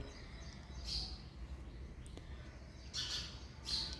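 Short bursts of shrill house sparrow chirps from a nest overhead break out a few times over a low background hum, close by and fairly loud in clusters.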